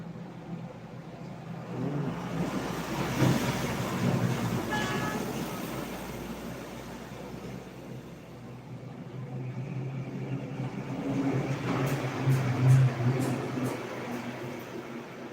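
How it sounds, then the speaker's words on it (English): Trucks and buses pass through a small village on a route to and from India, a continuous rumbling engine and road noise that swells and fades as vehicles go by, with faint voices underneath. "the trucks and buses passing, going to or coming from India, bringing supplies"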